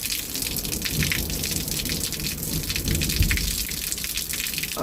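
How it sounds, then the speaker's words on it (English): Heavy rain falls steadily and loudly outdoors, a dense hiss of drops striking surfaces with a low rumble underneath. It continues without a break, and no one speaks. "I don't know what it is about the rain, but I love the rain"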